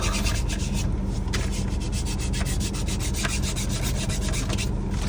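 Steady, loud rasping of number 56 sandpaper rubbed back and forth on a surface, continuous scratchy friction strokes without pause.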